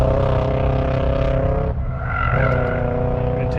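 A three-cylinder daily-driver car runs at an autocross event, its engine a loud, continuous buzzing drone that dips briefly as the revs change, then climbs again.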